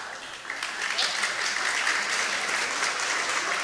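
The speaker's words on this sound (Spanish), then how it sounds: "vengan acá y les demos un aplauso porque creo que se lo merecen" Audience applause at an animal welfare campaign event, a dense steady clapping that fills the whole stretch, loud and sustained with some voices mixed underneath.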